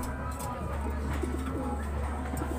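Pigeons coo steadily in a breeder's loft, a low, continuous murmur of overlapping coos close by with a few brief chirps, no talking.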